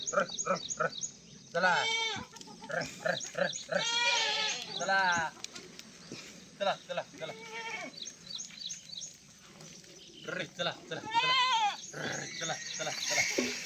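Goats bleating while grazing freely in an open field in the morning, several wavering bleats from more than one animal, some near and some farther off, over quiet background.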